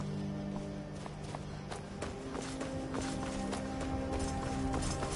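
Horse hooves in Skyrim VR: a steady, fairly faint clip-clop of a horse moving, with a continuous rhythmic patter under ambient game sound throughout.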